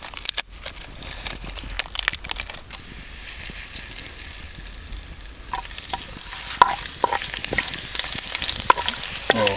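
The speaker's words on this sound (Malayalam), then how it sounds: "ചൂടായ ഓയിലിലേക്ക് നമുക്ക് ബേ ലീഫ് ഇടാം ആദ്യം." A bay leaf drops into hot oil for quail egg biryani and sizzles steadily up close, with scraping stirs and clinks of a ladle against the pan.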